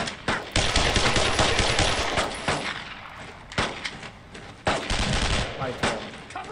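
Heavy covering gunfire in Brothers in Arms: Road to Hill 30, loud machine-gun bursts and rifle shots rattling in clusters with brief lulls and sharp isolated cracks, close and intense, with faint voices underneath.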